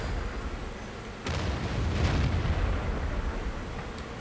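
An M46 tank gun fires once in a video game match, a single muffled boom that lands just past the first second and then rumbles and decays over the following seconds.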